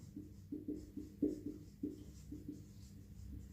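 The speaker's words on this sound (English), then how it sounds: "So let me write it here." A pen writes notes on a board or paper in short, quiet strokes with small pauses between them, close and soft, with no talk.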